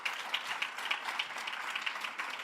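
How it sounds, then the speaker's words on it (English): Audience at a school sports awards ceremony applauding, a crowd's steady clapping with a few sharper individual claps standing out in a regular rhythm, moderately loud and sustained for a couple of seconds without speech. "Clap it up one more time for Miss Hatchett."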